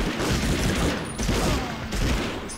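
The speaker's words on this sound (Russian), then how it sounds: "кто меня стреляет-то с автомата?" Sustained automatic gunfire in the Medal of Honor video game, a dense, loud, continuous rattle of shots with booming low end filling the whole stretch.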